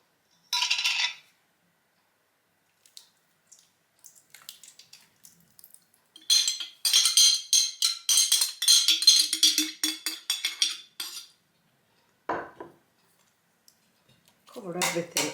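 Ingredients, including turkey broth, go into a cooking pot in a homestead kitchen: a burst of rattling, then a longer stretch of pouring, splashing and clinking, with scattered small taps and quiet gaps.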